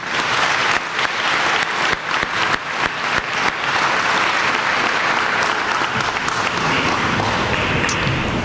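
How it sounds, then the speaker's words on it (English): A graduation audience applauds scholarship organizations, a dense, loud wash of clapping from a large crowd that carries on steadily throughout. "if we could do a round of applause for all of the great organizations out there that provide scholarships"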